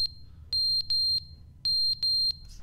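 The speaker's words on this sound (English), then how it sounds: "Oh, that's a smoke alarm." A smoke alarm in the video game The Stanley Parable (Ultra Deluxe) sounds loud, piercing electronic beeps in two groups, a single chirp followed by short runs of three, with a low hum underneath.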